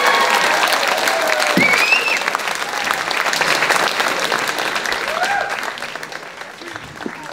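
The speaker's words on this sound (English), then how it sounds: "Again, a nice round of applause for Greg Diaz" An audience at a Christmas concert claps loudly and steadily, with a few whistles and cheers rising over the applause, which slowly eases toward the end.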